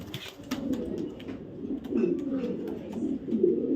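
Soft, low cooing of a male racing pigeon continues steadily throughout, a close murmuring call with faint chirps above it and no talking.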